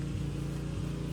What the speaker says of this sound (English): The mower man's turned up and is doing our lawn.